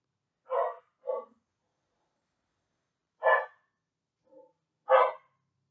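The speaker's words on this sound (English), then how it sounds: "That's my dog. Dogs." A dog barks in short bursts, a quick pair followed after a pause by a few more sharp barks, with silence in between.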